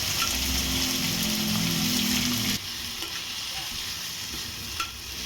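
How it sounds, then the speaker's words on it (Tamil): Crushed garlic and onion sautéing in hot oil with mustard seeds, a loud, dense, continuous sizzle and crackle close by that drops to a quieter, steady frying hiss partway through, with occasional small pops. "தட்டி வச்ச பூண்டு வெங்காயம் போட்டு நல்லா வதக்கணும்"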